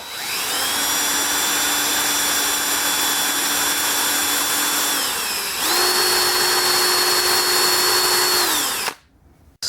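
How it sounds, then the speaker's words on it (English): A power drill drilling into wood whines loudly and steadily, its pitch dipping as it bites in, then winds back up before cutting off abruptly. "and now I'm going to drill it out."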